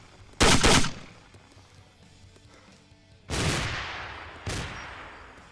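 MK17 rifle gunfire in the video game Arma 2: three loud bursts of shots, the first short and sharp, then two more after a pause, each followed by a fading echoing tail over quiet ambience.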